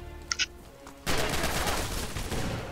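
Sustained burst of gunfire in the World War II shooter game Red Orchestra 2, a dense, loud fusillade that erupts after a couple of faint clicks and keeps rattling for almost two seconds.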